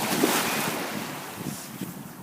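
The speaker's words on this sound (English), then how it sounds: "the sand is so, soggy and stuff, obviously, because the water's hitting it, and the waves are not strong. You can hear it, obviously." Gentle ocean waves wash over soggy beach sand, a continuous close rushing surf with light wind noise and no voices.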